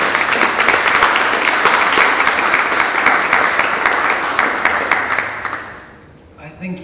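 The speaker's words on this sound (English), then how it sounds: "ask you all to join me in a round of applause to thank Ms. Pamela Peeters" Audience applause after a film festival expert panel on sustainability, loud and close, sustained for several seconds before tapering off into room quiet.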